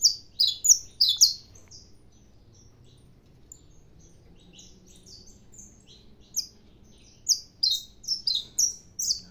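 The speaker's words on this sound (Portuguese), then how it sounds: "Os canários só dando uns cantinhos mesmo." Saffron finches (canário da terra) warming in the morning sun, giving short bursts of high sharp chirps: a cluster at the start, a long quiet stretch with low hum, then a rapid run of bright notes near the end.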